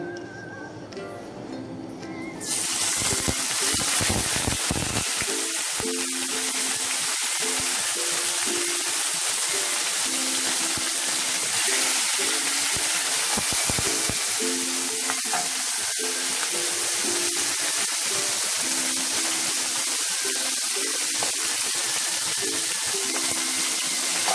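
Tuna fish slid into very hot oil: after a quieter start, a loud, close sizzle erupts and carries on steadily, with occasional bubbling crackles and stirring clatter.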